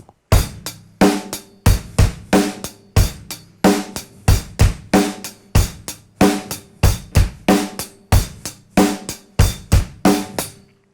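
Drum kit beat played fast and alone, sharp evenly spaced hits in a steady driving rhythm, loud and close.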